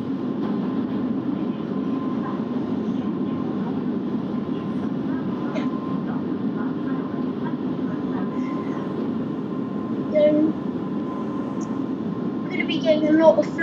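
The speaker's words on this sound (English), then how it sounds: "Flanging. Since we took quite a sharp turn into this station." A London Underground Central Line train in the BVE simulator rumbles steadily into a station on a sharp curve, a thin, sustained wheel-flange squeal riding above the low rolling drone, with a few brief higher squeaks near the end.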